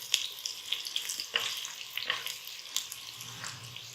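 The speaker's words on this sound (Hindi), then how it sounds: "ये देखें 3-4 मिनट मैंने इसको टमाटरों को प्याज के साथ फ्राई किया है" Tomatoes and onions fry in a covered pan, giving a steady close sizzle broken by sharp pops and crackles throughout.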